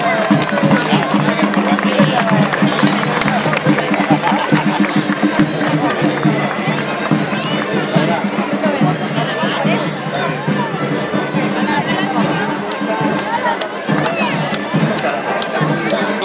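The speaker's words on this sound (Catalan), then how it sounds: "Un fort aplaudiment per ells." Crowd at a giants festival (trobada de gegants) in Nou Barris breaking into sustained applause and cheering, dense clapping and chatter continuing steadily throughout.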